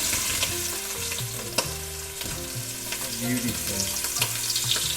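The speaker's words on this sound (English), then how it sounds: "It's searing. You have to sear the meat." Osso bucco meat sears in a frying pan with a steady, crackling sizzle and occasional stirring noises, under a tonal musical backing, and a voice briefly says a word.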